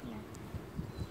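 Faint insect buzzing drifts in and out over low outdoor rumble, with a few brief louder hums passing close by.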